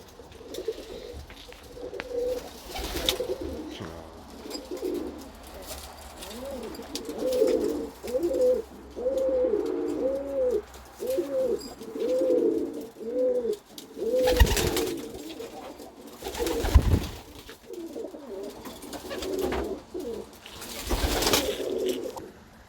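Pigeons coo in soft, repeated rolling calls, several birds close by, with occasional rustles and bumps between the coos.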